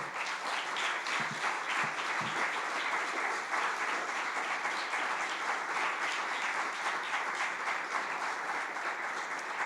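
A church congregation applauds steadily and loudly for nearly ten seconds, a dense, continuous wash of clapping from many hands in a large room, with no voices rising above it.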